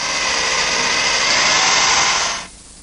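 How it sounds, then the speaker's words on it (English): A power drill bores a 1/4-inch hole through wood for a trundle bed's cross-dowel joint, giving a loud, steady whirring grind for over two seconds that then stops sharply and leaves a faint residual hum. "the idea here is to drill a 1/4-inch hole through to the dowel hole"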